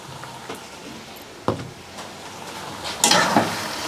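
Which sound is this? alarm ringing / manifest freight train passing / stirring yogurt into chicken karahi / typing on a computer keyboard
stirring yogurt into chicken karahi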